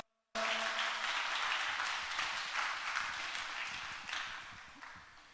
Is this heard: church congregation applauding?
yes